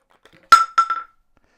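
A 2.4-ounce steel ball falls onto a Zagg tempered glass screen protector on an iPhone 15 Pro Max, giving one sharp, close glassy clink and then two or three lighter bounces that quickly fade into silence.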